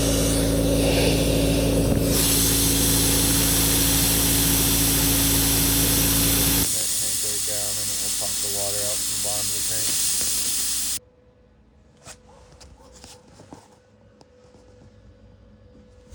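A Harbor Freight 65A plasma cutter, fed by a borrowed air compressor, cuts 1-inch steel with a loud, steady roaring hiss that shifts in tone partway through, then cuts off abruptly, leaving faint clatter.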